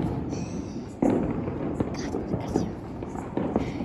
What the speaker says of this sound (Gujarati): જીણકા છોકરા ને મારે ફટાકડા ફૂટી રહ્યા છે